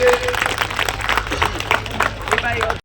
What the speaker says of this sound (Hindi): जोरदार ताली बजा करके प्रदीप जी का स्वागत करिए।